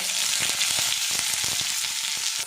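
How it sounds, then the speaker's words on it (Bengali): Chopped onion hits hot oil already tempered with cumin, bay leaf and dried chilli, giving a dense, loud, close sizzle with quick crackles. "এবার এর মধ্যে দিয়ে দেবো পেঁয়াজ কুচি"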